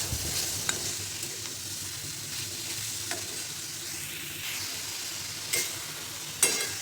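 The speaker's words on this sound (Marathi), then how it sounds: "तर ह्याला हलवत राहायचे." A spoon stirs a coconut and jaggery filling in a pan, giving a soft continuous scraping sizzle with a few light knocks against the pan, close and fairly quiet.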